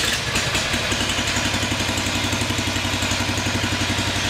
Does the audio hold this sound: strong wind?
no